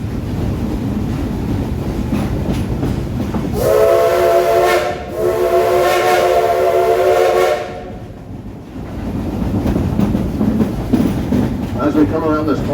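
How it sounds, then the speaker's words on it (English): Steam locomotive FSDL #504's whistle blows twice, loud and sustained, over the steady rumble of the moving train, with faint voices before and after. "How about a couple more whistles, Ichabod?"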